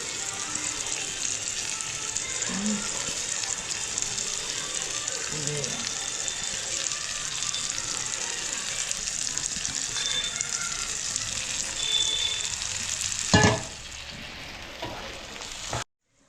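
Marinated chicken leg pieces sizzle and fry in oil and ghee, a dense, continuous crackling hiss close up that fades sharply near the end, punctuated by a clunk.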